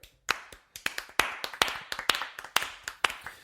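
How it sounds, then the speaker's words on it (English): A small group of hands claps in a quick, uneven round, sharp distinct slaps close by that start after a brief pause and continue steadily to the end. "I think we should give her a round of applause for overcoming her"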